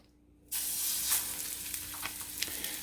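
Salmon sears in butter in a hot, smoking pan, the sizzle bursting in loud and steady after a short silence and crackling on with small spits and pops.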